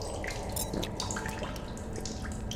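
Water trickles and drips from a source in the game The Solus Project as the player drinks, a steady close splashing flow running throughout with no talk.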